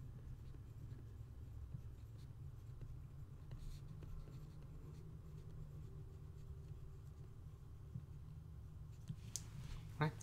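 Pen or marker writing by hand on a surface during a math lesson, a quiet continuous scratching with short strokes and small clicks, faint and close.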